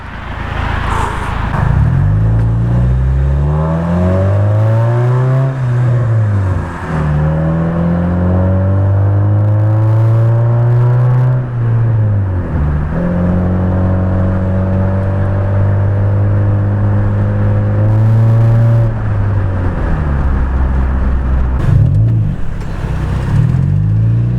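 A Mazda 3 with a straight-piped custom exhaust revs up and down repeatedly, its exhaust note rising and falling in long sweeping pulls, loud and close throughout.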